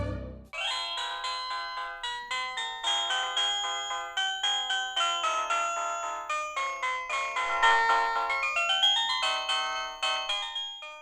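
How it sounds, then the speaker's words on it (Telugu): A melodic electronic ringtone plays continuously, a bright repeating chime pattern that rings loudly and steadily without any talking. "పెళ్లి కూతురు తండ్రి ఫోన్ చేస్తున్నాడు"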